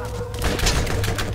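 Pistol fire in Borderlands sounds as a quick burst of dull, thumping shots close by, bunched together over a steady low game rumble.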